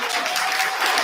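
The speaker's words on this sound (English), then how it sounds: "Please give them a round of applause for that." Audience applause at a regular board meeting, a dense, steady wash of many hands clapping at once, loud and sustained for the whole second with no voices breaking through.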